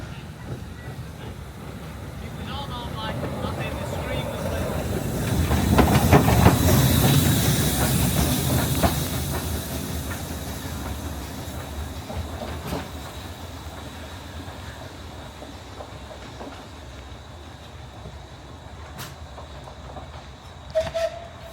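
A heritage steam train runs along Peak Rail in Derbyshire, with a steady rolling rumble and soft hiss that swells midway and then settles, a few sharp clanks near the end.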